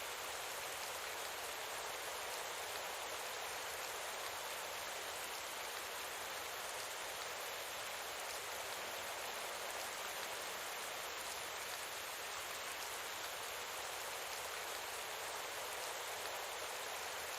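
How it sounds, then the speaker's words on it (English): Steady hiss of rain falling on a surface, an even, unbroken wash that runs throughout at moderate level with no voices. "Raining."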